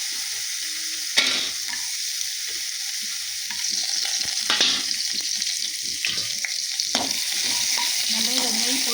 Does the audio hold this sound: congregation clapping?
no